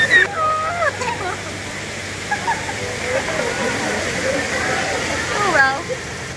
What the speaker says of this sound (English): please come visit this waterfall so you can enjoy the cold, cold, cold water in this hot, hot summer